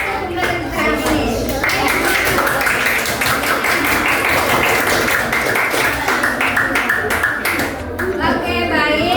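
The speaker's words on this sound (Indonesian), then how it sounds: "Beri tepuk tangan untuk kita semua" A sixth-grade class claps together in a dense, continuous round of applause lasting several seconds, with children's voices chattering and calling out over the clapping.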